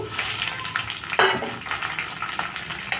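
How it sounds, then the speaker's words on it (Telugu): Cumin, mustard seeds, fenugreek, dried red chillies and green chillies hit hot oil for a coconut chutney tempering, giving a close, steady crackling sizzle with brief sharper pops. "అలాగే జీలకర్ర నెక్స్ట్ ఆవాలు మెంతులు ఎండుమిరపకాయలు పచ్చిమిర్చి కూడా వేసేసేయండి"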